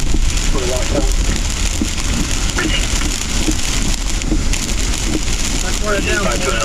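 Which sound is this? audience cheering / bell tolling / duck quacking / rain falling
rain falling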